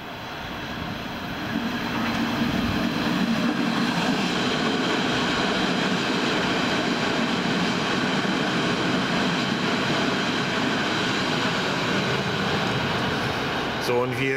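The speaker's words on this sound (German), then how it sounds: "aus Berlin kommt gerade eine S2 angefahren" A Berlin S-Bahn S2 train approaches on the Dresden line near Mahlow, its rumble rising from a distance into a steady, loud rolling roar that holds for most of the stretch, with a voice talking over it.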